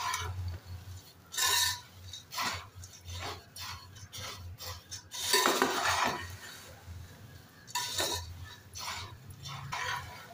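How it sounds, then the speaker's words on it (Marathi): A spoon mixes Kolhapuri bhadang, a crunchy puffed-rice snack, with powdered sugar, producing repeated rustling crunches and light clinks against the bowl in irregular bursts, fairly close and quiet, with no talking. "आता हे छान मिक्स करून घेऊया"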